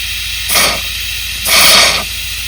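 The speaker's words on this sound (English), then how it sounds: "We're going to spray it out, air it out, hopefully not blow the hose out." Two loud bursts of compressed air from a hose blasting water out of a waterlogged 1974 Pontiac Ventura engine, each a harsh broadband hiss lasting about half a second, with a steady low hum between them.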